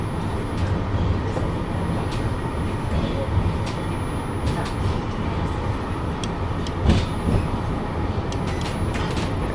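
Steady rumble of a tram rolling through Birmingham, heard from inside the car, with continuous low-frequency running noise and brief clicks and knocks over it.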